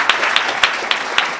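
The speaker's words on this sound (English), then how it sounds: "let's give him a round of applause and welcome." Audience applause welcoming a speaker to an artist's talk, heard as a short burst of fairly close, steady clapping with a few sharper claps standing out.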